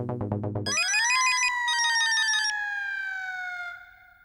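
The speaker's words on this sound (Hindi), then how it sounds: "अभी हाथी भाई को फोन लगाता हूँ।" An electronic ringback tone on an outgoing phone call: a rapid buzzing pulse, then a bright warbling trill with a rising tone that holds and slowly fades out, loud and alone.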